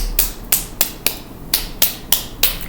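Sharp, slapping claps from the backs of the hands, done as a seated health exercise, come eight times at a steady, brisk pace. Each one is crisp and close, and no one speaks.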